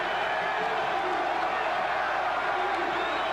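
More than 6,100 fans at a Duke at Miami college basketball game roar in a steady, broad wash of crowd noise with scattered whoops that holds for about three seconds, with no clear speech.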